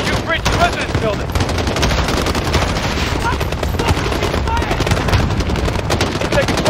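Sustained machine-gun and rifle fire in Call of Duty: Modern Warfare during an assault on a compound residence, loud continuous rattling bursts layered densely with distant shots, voices speaking under the barrage.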